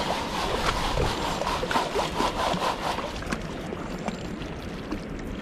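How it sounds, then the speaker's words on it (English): Dirt being washed through a quarter-inch screen while rockhounding for garnets and sapphire: repeated rhythmic scraping and sloshing of wet gravel and water, close and moderately loud, easing off toward the end. "What I'm doing right now is just washing away the dirt, hopefully leaving the good stuff."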